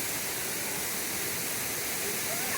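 A forest waterfall roars in a steady, broadband rush of falling water, close and continuous with no break.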